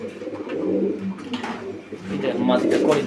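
Pigeons of the blackless shirting breed coo softly in a loft, a steady murmur of low calls close by, with people talking over them throughout.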